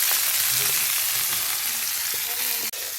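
Chicken fries in plenty of oil with a loud, dense, continuous sizzle and crackle, close up and unbroken apart from a brief dip near the end.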